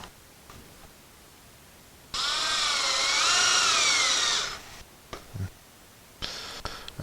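A power drill drives screws lightly into an Ikea Pax wardrobe, one loud close whirring run of about two seconds, followed by a few faint clicks and a brief second burst.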